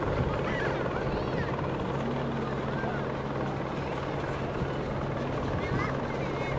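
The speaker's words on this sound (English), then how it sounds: "You can hear like nothing but helicopter and me talking." A helicopter flies overhead, a loud continuous rotor drone with a steady low throb that fills the whole stretch. A person talks faintly beneath it.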